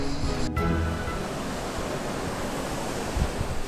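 Constant rushing of river water beside a bridge in Albania, a broad loud wash of flowing water with some wind buffeting the microphone at the start.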